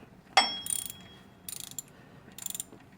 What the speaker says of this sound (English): I managed to find my ratchet here with the 15mm, and I'm just gonna see what it takes to break these bolts loose